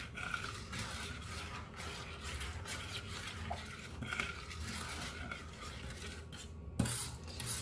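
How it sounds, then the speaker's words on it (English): A spoon stirs sugar and water in a pot for peach jam, a steady scraping and rubbing against the pot's sides and base that runs throughout, with one sharper clink near the end. "Then we're going to add that cup of water and stir to start dissolving this."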